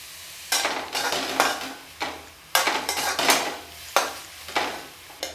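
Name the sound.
sautéing beetroot with onion in oil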